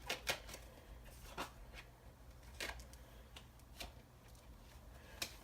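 Tarot cards shuffled and riffled by hand, a string of crisp papery bursts at irregular intervals over a faint steady hum, no talk.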